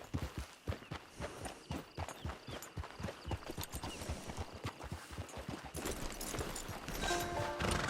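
Horse hooves clip-clop steadily on the ground in Red Dead Redemption 2, a quick, close rhythm of clear hoof strikes that runs throughout, with a faint whinny-like tone near the end.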